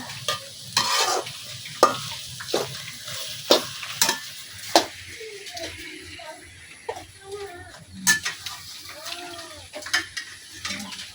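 A utensil scrapes and knocks against a wok in repeated strokes while food sizzles softly underneath, with faint background noise.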